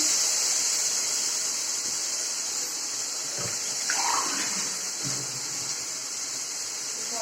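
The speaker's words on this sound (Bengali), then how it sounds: "আমি আলুটাকে একটু জল দিয়ে দিলাম, এটা ফুটে যাক আলুটা।" Water hits a pan of frying potatoes, setting off a loud, continuous sizzling hiss with faint bubbling underneath, heard close up and steady throughout.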